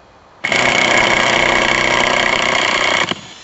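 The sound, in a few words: power tool pulled to full trigger on cold frame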